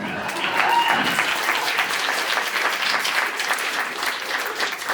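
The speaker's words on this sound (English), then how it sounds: "Please clap." Steady applause fills a comedy show venue for about five seconds, a full audience clapping together at an even level from start to finish with no talk over it.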